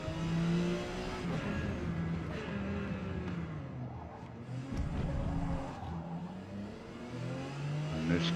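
Porsche 956 race car in Forza Motorsport at Kyalami, its engine revving and shifting continuously through a qualifying lap with faint tire squeal, loud and close throughout.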